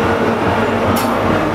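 A train arriving at a rural request stop in Cornwall, a steady loud rumble heard close by with continuous rolling noise and a brief high hiss partway through, without talk.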